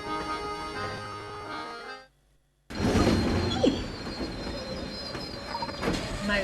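Train sounds from the Professor Layton and the Diabolical Box video game, rolling rail noise that cuts to a moment of silence, then a loud return of rumbling carriages and squealing wheels as the train comes to a stop.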